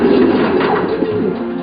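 Racing pigeons coo close by in a soft, throaty, repeated rhythm, heard clearly with no talking.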